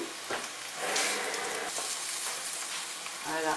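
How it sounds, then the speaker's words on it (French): Water hitting a hot pot of Moroccan kafta tajine sizzles loudly and steadily, with some stirring, for a few seconds with no voice. "Je vais rajouter de l'eau."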